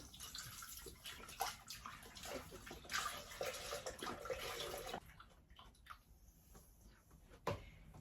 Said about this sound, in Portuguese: vou colocar aqui 1 litro de leite